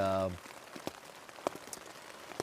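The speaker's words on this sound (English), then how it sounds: "Today, it's raining a little bit here" Light rain falling on the Appalachian Trail, heard as a scatter of soft, irregular drips and taps spread through the clip after a brief louder tonal sound at the very start.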